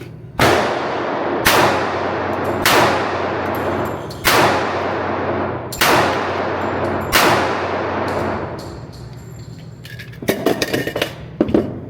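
A Springfield TRP pistol with a flush-cut, crowned barrel fires six evenly spaced, loud shots outdoors, each crack followed by a long echoing decay, then a brief clatter of metallic handling noises.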